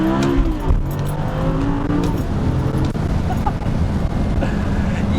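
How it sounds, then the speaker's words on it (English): A car accelerates hard in first gear, its loud engine droning and rising steadily up close throughout, with muffled voices underneath. "First gear pull."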